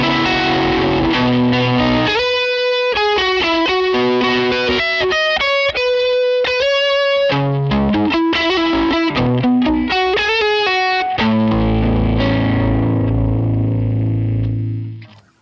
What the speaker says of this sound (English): if I turn that voltage boost off, as I drive up, you're going to get a lot more clipping earlier in that turn